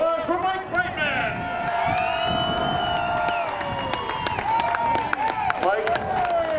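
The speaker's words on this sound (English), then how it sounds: "How about a round of applause for Mike Brightman?" A crowd in victory lane at Seekonk Speedway after a Pro Stock feature race cheers, whoops and claps in scattered bursts, with whistles rising above the noise while people talk close by.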